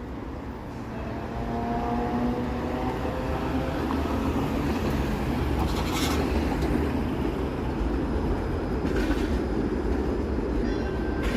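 Streetcar ride in Toronto along Lake Shore Boulevard: a steady, loud rumble of the rail car in motion, with faint rattles and a couple of brief squeaks, and no voices.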